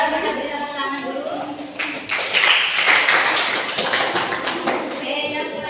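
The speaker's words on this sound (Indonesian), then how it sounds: "Kita beri tepuk tangan dulu" A classroom group claps after a student team's presentation, scattered and uneven, with a few taps and thumps mixed in and a voice speaking over part of it.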